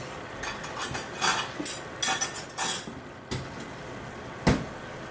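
Metal spoon scraping and clinking against a pot while butternut squash risotto with turkey stock is stirred, a few uneven scrapes and taps at close range, with quiet pauses in between.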